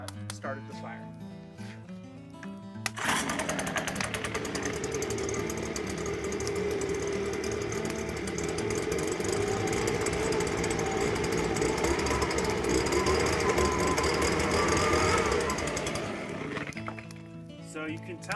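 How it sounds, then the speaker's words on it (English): A leaf blower roars steadily onto a burning fire for about twelve seconds, a loud buzzing, rattling drone that starts abruptly and cuts off, with quieter sound before and after it. "when I introduced the oxygen with the leaf blower, the fire got very intense"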